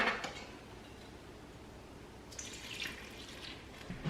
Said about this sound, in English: So go ahead and add the water to the flour mixture.